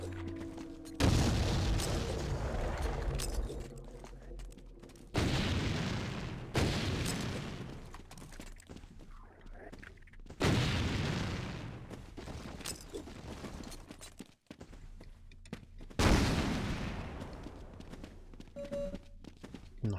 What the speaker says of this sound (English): Running grenades. Tons of grenades.